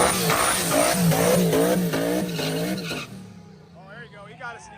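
A 500 HP street car races down a rough track in Ohio, its engine roaring loud and close with rising revs and squealing tires before fading away.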